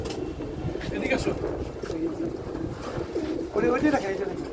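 Racing pigeons coo softly in a loft, low throaty calls rising at intervals over steady background noise, with people talking nearby.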